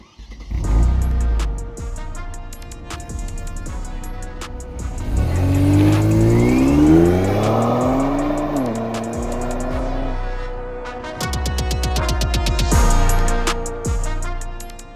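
A Kia Stinger GT turbo, Scorpion edition, starts up and pulls away, its engine revving and rising in pitch through the gears, loud and close, with a brief lull midway before accelerating again.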